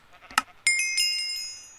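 A sheep bleating in the Minecraft video game, one short bleat followed by a bright chiming game sound that rings on and fades, loud and close with no talk.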